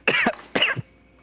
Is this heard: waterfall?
no